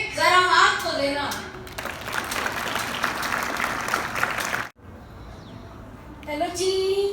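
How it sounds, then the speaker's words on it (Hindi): Schoolchildren at a convent school traffic-awareness event clap in a sustained burst of applause between stretches of someone talking, which cuts off abruptly. "तालियां नहीं बजानी थी।"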